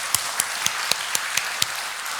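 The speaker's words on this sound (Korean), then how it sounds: "우리 시간 함께 마음을 모아서 하나님께 감사와 영광의 박수를 올려드리도록 하겠습니다." A church congregation applauds during a 79th founding anniversary service, a steady diffuse wash of clapping with a few sharper individual claps standing out at regular intervals, moderately loud and without speech.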